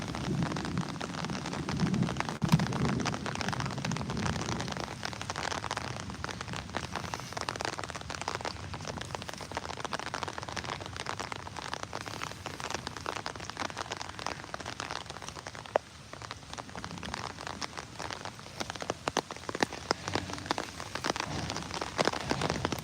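Steady rain pours down, a dense even hiss of drops striking surfaces, with occasional sharper patters and no voices.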